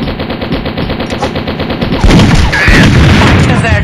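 Rapid, loud machine gun fire from the Mini Militia video game hammers on continuously in dense bursts, growing heavier partway through with overlapping shots and booms.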